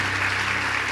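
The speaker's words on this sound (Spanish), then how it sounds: "¿Por qué no le das un fuerte aplauso al Señor?" A church congregation claps together in a brief, steady burst of applause that fills the room.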